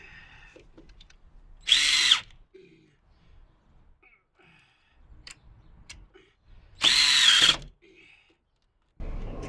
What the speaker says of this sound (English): Now at this point, you can use your electric drill.